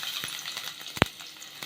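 Garlic frying in hot oil with popped mustard seeds, a soft continuous sizzle with scattered crackles and one sharp spit partway through, no talking.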